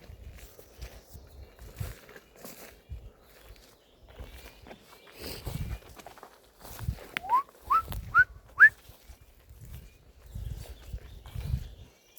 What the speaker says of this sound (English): That's my identity whistle, basically.